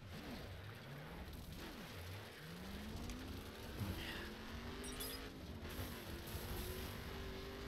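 A car in The Crew drives off-road through the Grand Canyon, its engine revving and shifting in rising, falling sweeps over gravelly tire noise and brush scraping, held at a low, steady level.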